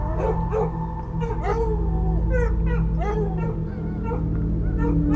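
Several dogs howl and yip together on a hillside, wavering overlapping howls rising and falling over a steady low hum, fairly loud throughout.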